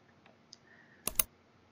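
A few faint scattered clicks followed by a sharp double click of a computer mouse near the end, quiet and close, in a web browser with no talk.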